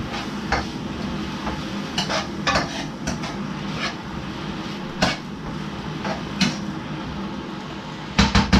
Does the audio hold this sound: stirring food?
yes